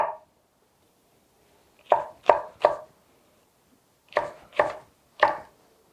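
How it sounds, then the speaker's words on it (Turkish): A knife finely chops peppers on a cutting board in two quick bursts of three crisp thuds each, close and clear against near silence. "Biberleri de bu şekilde yine ince ince doğruyorum."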